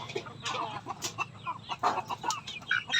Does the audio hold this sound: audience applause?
no